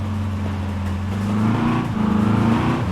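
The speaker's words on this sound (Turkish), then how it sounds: "Öf öf öf motorun sesine bak." A Volkswagen Amarok engine in Euro Truck Simulator 2 drones loud and close with steady low tones, its pitch rising and wavering as it revs, heard alone.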